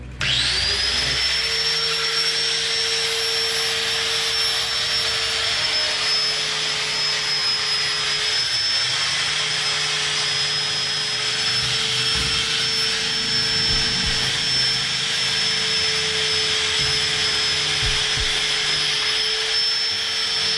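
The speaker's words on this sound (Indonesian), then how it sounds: "harus dipotong dengan" An angle grinder cutting through the long mudguard bolt on a 2020 Yamaha NMAX, a loud, steady high-pitched whine held unbroken for the whole stretch.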